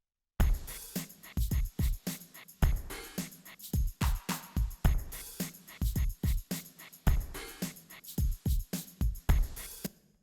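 A drum rhythm with an open hi-hat tuned down four semitones, from a breakdown of a pop song, punchy kicks and snares driving a steady pattern with bright hats ringing over the groove.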